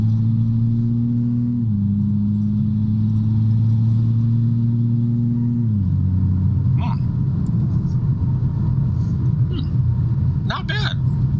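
A car with a stage 3 XHP transmission tune cruises in fully automatic mode, its low engine drone stepping down in pitch as the gears shift up into eighth. Road rumble runs beneath, and people talk over the engine.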